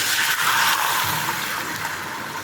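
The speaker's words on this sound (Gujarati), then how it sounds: "પાણી એડ કરવાનું છે" Water pours into a cooking pot along with green chillies and hing, making a steady, close, continuous rushing stream with no talking.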